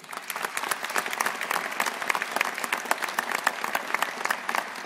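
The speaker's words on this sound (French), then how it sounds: "Merci de les applaudir" An audience at a municipal New Year's greetings ceremony breaks into steady, dense applause, many hands clapping evenly throughout at moderate loudness without voices.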